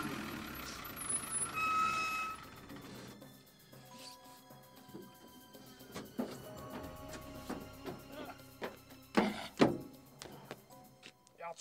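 A bus idles and rumbles with a faint tone early on. Intermittent thunks and clanks follow, along with tonal beeps that sound like a reversing alarm, scattered across the later part.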